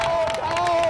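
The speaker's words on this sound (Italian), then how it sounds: "Un applauso" Spectators in Piazza dei Signori applaud and cheer during a waiters' race, a short burst of steady, close crowd noise with clapping blended into the general roar.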